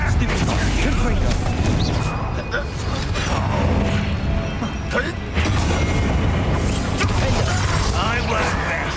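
Confringo explosive spell cast in Hogwarts Legacy, a loud booming blast with crackling debris and rumbling mixed into dense combat sounds that continue throughout, with voices shouting under the action.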